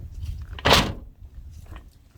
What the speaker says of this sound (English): So I'm going to shut the door.